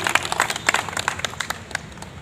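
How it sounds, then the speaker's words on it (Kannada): Brief burst of audience applause at a Kannada community felicitation ceremony, many hands clapping in scattered, uneven rhythm at moderate distance, fading toward the end without any voices over it. "ಒಂದು ಕೈ ಚಪ್ಪಾಳೆಯನ್ನು ಹೊಡೆಯಲ್ಲ."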